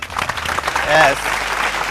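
An audience claps at a college game show at Sri Kranthi Junior College in Nalgonda, a dense patter of hands rising to a brief peak midway while a voice talks over it.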